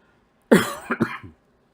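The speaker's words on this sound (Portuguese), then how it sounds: "Desculpem essa tosse, pessoal." A single adult cough bursts out close to the microphone, followed by a couple of quick, fading throat-clearing pulses, then silence.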